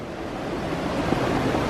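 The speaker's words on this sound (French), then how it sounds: "Le vent souffle très fort." Strong wind roars steadily at Disneyland Paris as broadband rushing noise, buffeting close to the microphone, with no voices.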